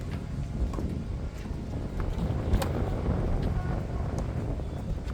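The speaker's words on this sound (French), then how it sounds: "Le vent qui souffle, c'est horrible." Wind blows steadily into the microphone at an outdoor tennis match, a constant low rumble with occasional faint gusts and crackles.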